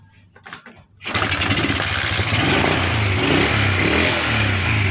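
A Kawasaki Fury 125 motorcycle engine that had stalled and refused to start cranks briefly, then catches and settles into a steady, loud, close idle.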